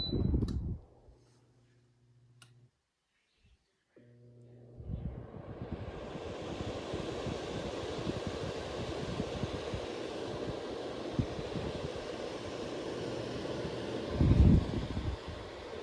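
Lasko oscillating hybrid fan and space heater switching into heat mode: a few clicks, then a steady close whooshing airflow hum that holds for many seconds, with a brief louder bump near the end.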